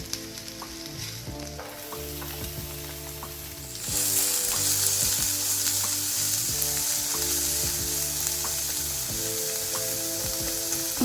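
Chopped onions sizzle steadily in hot oil in a pan for a Kerala-style yam curry, a continuous frying hiss that grows louder partway through as stirring continues, with no voices.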